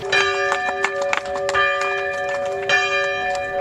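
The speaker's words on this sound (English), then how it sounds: "and ring the bell." A chapel bell at a local history museum rings with a sustained metallic tone, struck repeatedly so the ringing overlaps and lingers, clear and fairly close.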